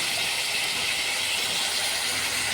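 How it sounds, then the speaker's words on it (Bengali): Prawns fry in hot oil in a wok, giving a steady, dense hiss that stays loud and even from start to finish, with no talk. "এই চিংড়ি মাছ ভাজা হচ্ছে, আমি বেশি ভাজবো না, হালকা করেই ভাজবো।"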